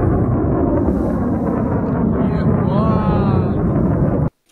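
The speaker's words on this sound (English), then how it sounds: "The sound looks like a jet engine" A loud, continuous roar like a jet engine fills the air over Crimea with a rising whine, then cuts off abruptly at the end in an air explosion.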